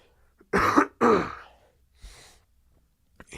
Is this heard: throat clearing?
yes